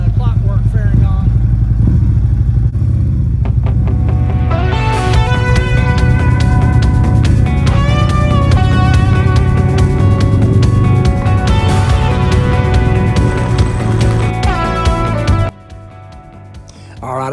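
A motorcycle fitted with a Clockwork fairing rides down the road, its engine note rising and falling through the gears under heavy wind rush, then dropping off sharply near the end.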